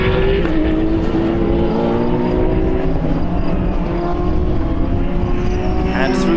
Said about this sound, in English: Denis Vašek coming through as he is lapping the Porsche.